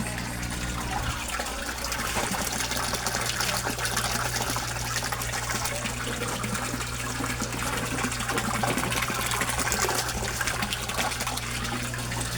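An aerator bubbles water steadily in a koi fish pond, a constant close gurgling hiss with an electric hum beneath it and no break.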